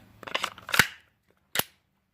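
WE EU17 Glock 17 Gen5 airsoft pistol handled close up, a quick run of small plastic-and-metal clicks followed by a sharp snap, then one more crisp click after a brief pause.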